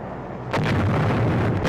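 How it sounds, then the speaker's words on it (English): Wartime bombing on Corregidor in a WWII US Army film, a sudden heavy blast that rumbles on in a dense low roar, loud and close, after a brief quieter moment. "The Japs are bombing us from outside."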